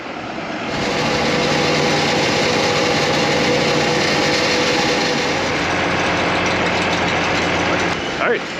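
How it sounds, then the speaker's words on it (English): A fuel truck idles steadily beside an F-4 Phantom under repair, a loud continuous engine rumble that holds from about the first second to the end, with a brief change near the close. "Hey, fuel truck's here."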